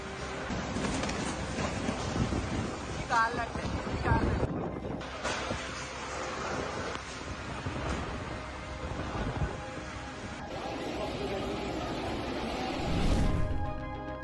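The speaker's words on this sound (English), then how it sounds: "The strongest wind scared the inhabitants of India." A violent windstorm in India roars steadily, loud and dense, with crashing and rattling gusts and a louder surge near the end.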